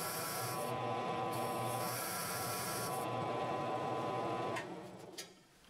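A Forstner bit grinds steadily into a natural-edge crotch wood bowl blank mounted on a lathe, giving a continuous, close rasping drone that stops abruptly near the end.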